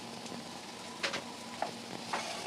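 Onion and potato frying in a pan for crispy aloo bonda, with a faint, steady sizzle broken by a few short scraping stirs. No one talks.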